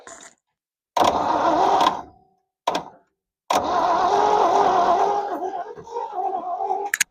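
A 1969 Chevy Custom C10 pickup, long buried in a field, cranks in separate bursts: a short grind, a second longer one, a quick stab, then a long crank that catches briefly and sputters into rough running.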